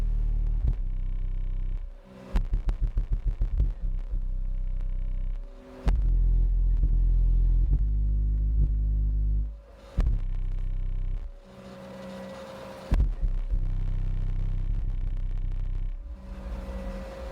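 A DC Audio DC-M4 Level 1 12-inch car subwoofer, powered by an amplifier, pounds out loud, heavy bass in repeated swells and short rapid hits, with deep rumbling low notes and brief gaps between passages.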